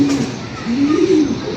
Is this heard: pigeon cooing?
yes